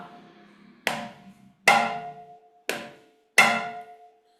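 Four open, ringing "ta" strokes on a mridangam, struck one at a time with short pauses, each hit sharp at the start and then resonating away.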